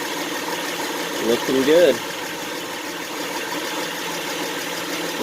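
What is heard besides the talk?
2011 Honda Pilot 3.5L engine idling after oil change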